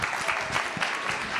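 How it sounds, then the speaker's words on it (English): A church congregation at a Sunday service applauds the band, dense close clapping from many hands filling the short stretch at steady loudness. "Big round of applause for our band."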